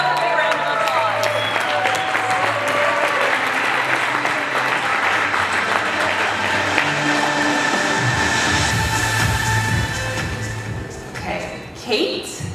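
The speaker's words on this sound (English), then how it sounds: "Let's give them another big round of applause." Sustained audience applause fills a large convention hall, a dense wash of clapping with crowd noise and a voice talking over it near the end, fading slightly in the final seconds.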